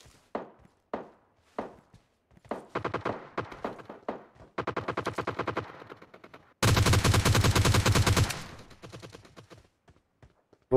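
Rapid gunfire from players shooting in PUBG Mobile, starting with scattered single shots and short bursts, then building into a long, loud, sustained automatic volley before trailing off into a few final shots.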